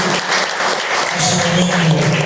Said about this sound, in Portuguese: Bate palmas e glorifica a palavra do Senhor.